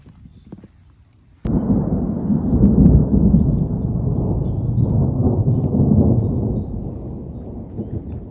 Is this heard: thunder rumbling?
yes